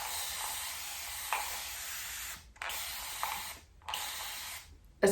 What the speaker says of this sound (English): First things first, my handy dandy spray bottle of water.